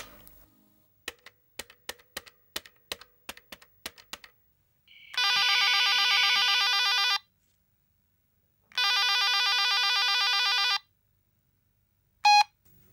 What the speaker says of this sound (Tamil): மேடம் ஒரு ஃபோன் பண்ணிக்கிறேன்.